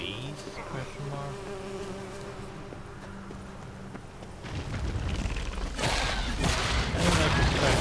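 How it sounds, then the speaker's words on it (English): Swarm of bees attacking in The Witcher 3 video game, a steady insect buzz that builds louder and denser toward the end, with layered game sound effects underneath. "I'm being attacked by bees?"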